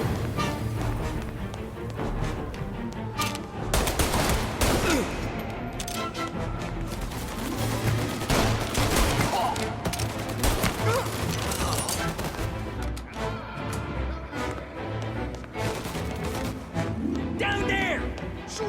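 Gunfire crackles through a Mafia: Definitive Edition shootout, bursts of shots and crashes dense and continuous across the scene, mixed with voices and score-like background.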